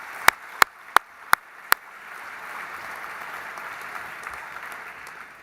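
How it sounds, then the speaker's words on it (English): Audience applause at the opening evening of an Auschwitz exhibition: five loud, sharp, evenly spaced claps up close, then a softer sustained patter of crowd clapping. "Once again, let's give him another big round of applause."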